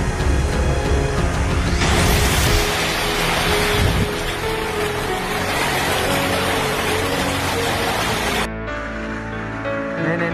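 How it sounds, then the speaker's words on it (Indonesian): Hailstorm with heavy rain and strong wind in Pekanbaru, a loud, dense, steady roar of pounding precipitation and gusts that fills the whole stretch, with a sharp drop in intensity near the end. "Nih hujan es tuh hujan es."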